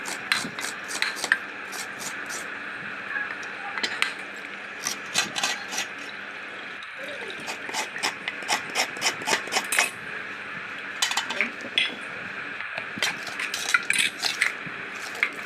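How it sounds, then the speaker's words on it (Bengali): A fresh coconut being cut and its flesh grated, heard as repeated quick rasping scrapes in bursts with short pauses and occasional knocks, close and fairly loud. "আর এই ফাঁকে আমি নারকেলটা কেটে নিব, তারপর পুরাই নিব"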